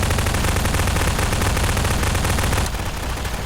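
Rapid, continuous automatic gunfire in the Garry's Mod flood game mode rattles loud and close for about three seconds, then eases slightly, with no talk.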